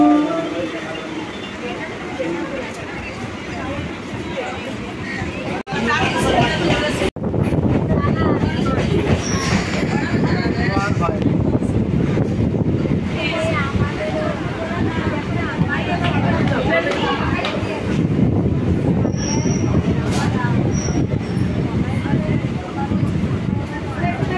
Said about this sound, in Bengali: এখানে ট্রেনকে দুবার স্টপেজ দিতে হচ্ছে